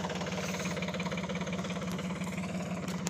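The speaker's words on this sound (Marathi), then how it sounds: "ट्रॅक्टर समोर आले ट्रॅक्टर आता त्याला बांधून" A tractor engine runs nearby with a loud, rapid, rhythmic chugging and knocking throughout.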